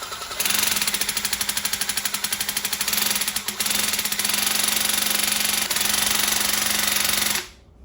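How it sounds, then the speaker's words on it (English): A cordless paint sprayer spraying out storage fluid: a loud, steady mechanical buzz with a rapid pulsing rattle runs for about seven seconds, briefly dipping once, then cuts off abruptly. "Pull the trigger for 5 seconds to spray out any storage fluid."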